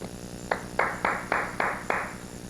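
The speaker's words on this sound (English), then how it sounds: "Oh, are you clapping out there?" A small audience at a 1998 live magic show claps in short bursts, about six quick rounds of applause arriving in a loose rhythm, moderately close in a room with a steady background hum.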